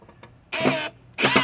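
A power drill fitted with a Bosch quarter-inch magnetic bit holder drives a screw in two short whirring bursts, close and loud, separated by a brief pause.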